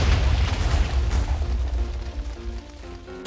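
Minecraft TNT blast, a loud booming explosion right at the start with rumbling debris and crackling that decays over a few seconds, ending in another sharp burst.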